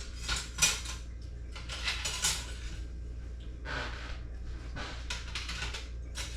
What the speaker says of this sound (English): Whisk the gravy.